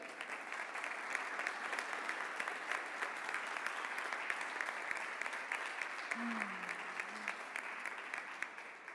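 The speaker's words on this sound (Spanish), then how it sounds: "a ver ese aplauso que les llegue" Applause from an audience at a community talk in a senior citizens' sociocultural centre, a steady wash of clapping held at moderate level throughout, with a faint voice briefly surfacing near the end.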